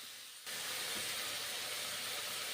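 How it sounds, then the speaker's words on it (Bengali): Boiled cauliflower stalks dropped into a hot wok, a sudden loud, steady sizzle that starts abruptly and holds a dense, even hiss throughout. "সেদ্ধ করে রাখা ডাটাগুলো এখন দিলাম কড়াইয়ে"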